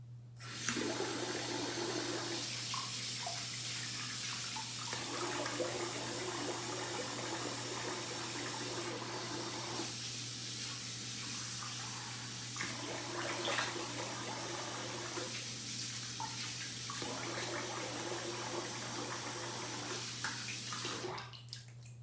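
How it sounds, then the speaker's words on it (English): Tap water running steadily into a sink while a face is rinsed, a continuous hissing flow with occasional splashing changes, fairly quiet and without talk. "I'm gonna rinse the face."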